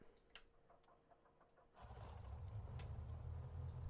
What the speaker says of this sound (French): Et on est parti pour démarrer le moteur.